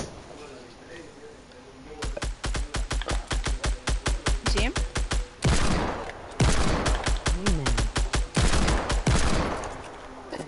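Rapid gunfire from a video game rattles out in dense bursts of shots, with brief pauses between volleys, loud and close throughout.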